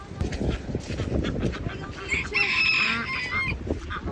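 Ducks on a flooded homestead honk and squawk over steady rushing water, with louder, more insistent calls building near the middle.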